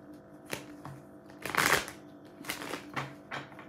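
Tarot cards being shuffled close up, a few soft scattered riffles and slides building to one louder burst, then lighter sliding strokes, quiet overall and without talking.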